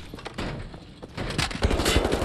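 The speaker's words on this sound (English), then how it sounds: "let's grab that machine gun" Rapid bursts of machine gun fire in the video game Wolfenstein The New Order, mixed with explosive thumps and heavy battle noise, getting louder and denser toward the end.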